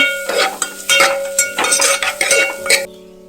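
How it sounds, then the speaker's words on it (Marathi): Onions fry in a pan on a medium-high flame while a spoon scrapes and stirs, producing a close, busy run of metallic clinks and scrapes over a soft sizzle, with no talking. "कांदो बरो तळसून घेता."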